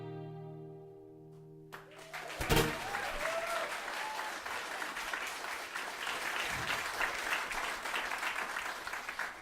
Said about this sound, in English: We're getting less applause as this goes on.